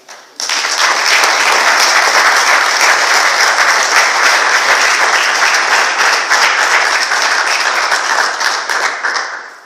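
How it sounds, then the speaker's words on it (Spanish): A large audience at an evening lecture breaks into loud, sustained applause, dense clapping starting abruptly, holding steady for several seconds and then tapering off at the end. "Así que recibámoslo con un gran aplauso."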